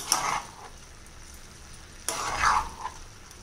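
Soaked basmati rice being stirred into vegetables in a kadai, heard as two short scraping, rustling bursts separated by a quiet pause, close and moderately loud with no talking.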